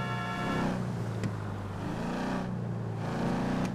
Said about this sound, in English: this car has such a fucking growly, fucking loud engine